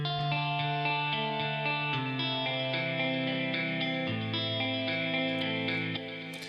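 Guitar through a Guitar Rig 6 preset with chorus and distortion, playing a song's chorus section: sustained chords and bright lead notes wash along steadily, loud and close, with a shimmering, effected tone and no voices.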